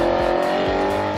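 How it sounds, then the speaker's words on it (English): Audi R8 V8 supercar engine revving, a loud, close, raspy roar with rising and falling pitch sweeps in a short burst. "Now, why I'd get a V8 is because it sounds like this."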